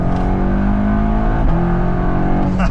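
Stock-turbo Audi S3 pulling hard in third gear, its engine note rising steadily and loud from inside the cabin, with a quick paddle-shift blip near the end.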